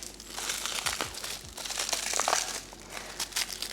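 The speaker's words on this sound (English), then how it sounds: "All the cats are running now because of the tape noise." Close crinkling and scratchy tearing as tape is pulled and peeled from a plant mail package, with rustling bursts throughout.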